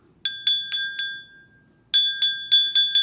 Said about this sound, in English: And we're going to ring this bell.